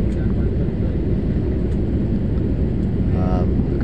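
A fixed-wing airliner's steady, loud cabin roar fills the space as it descends to land in Bangkok, heard from inside, with a brief faint tone near the end.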